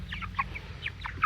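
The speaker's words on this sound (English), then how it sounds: "What an interesting chicken." Cornish Cross chicken giving a few soft, short clucks, close by and fairly quiet against a low background hum.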